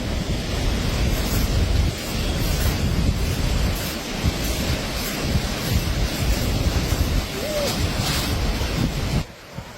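A river rushes with a steady, continuous roar, broad and close, with gusty wind noise over it and no voices, ending in a brief drop; at Chooralmala.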